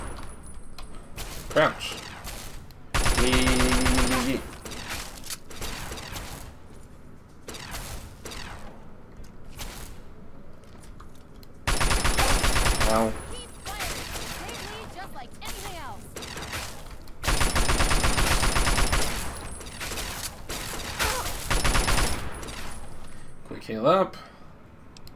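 Bursts of rapid gunfire in Fallout 3, several loud sustained volleys separated by gaps, with a voice talking between them.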